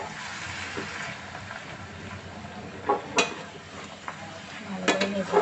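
Fish roe stirred and fried in a pan gives a soft sizzle under intermittent scrapes and clinks of a utensil against the pan, with the knocks growing busier toward the end.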